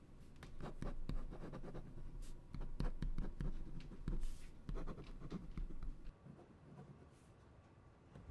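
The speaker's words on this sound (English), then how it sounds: "I'm going to respond to you right now, and I'm going to write it by hand" A pen scratches across paper while a letter is handwritten by hand, with close, crisp strokes and brief pauses between bursts of writing.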